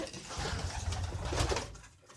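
Domestic pigeons coo softly and repeatedly up close in a loft, low throaty burbles rolling in a loose rhythm over faint background rustle.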